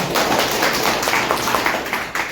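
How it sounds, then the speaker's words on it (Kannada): Applause from an audience at a government vehicle drivers' association function honouring its state president, a dense, steady clatter of many hands filling the room and holding at a loud level throughout. "ಅವರಿಗೆ ನಮ್ಮ ಸಂಘದ ಪರವಾಗಿ ಒಂದು ಚಪ್ಪಾಳೆಯಿಂದ ಅಭಿನಂದಿಸೋಣ"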